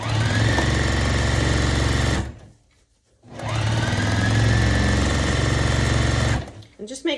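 A sewing machine stitches around the border edge of a rag quilt in two long, loud whirring runs separated by a short silent pause, close up, with a faint voice near the end.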